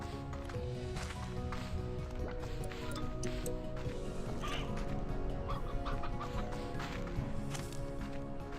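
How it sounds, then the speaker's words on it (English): Many chickens cluck and call continuously at close range, a dense overlapping flock chatter with occasional rooster-like calls over steady background noise. "So many chickens."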